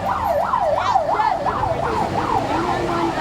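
A fire truck's loud wailing siren rises and falls in a fast, steady cycle, close by, over a low rumble of road traffic.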